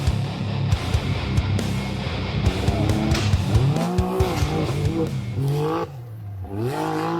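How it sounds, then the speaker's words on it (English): A side-by-side off-road vehicle drives hard through an urban setting of curbs, its engine revving and rising in pitch repeatedly, with tires squealing and skidding, loud and close, briefly dropping off near the end before picking up again. "that is how you drive a side-by-side right there"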